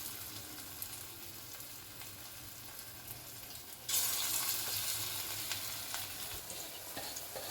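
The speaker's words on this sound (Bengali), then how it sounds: "আমি বড়াগুলো এইভাবে চ্যাপটা চ্যাপটা করে একটুখানি ছেড়েছি, আর লাল লাল করে ভেজে নিচ্ছি।" Flattened lentil fritters (dal bora) sizzle steadily in hot oil, with a soft frying hiss that swells louder partway through as more fritters are added, then holds as a continuous crackle with no talking.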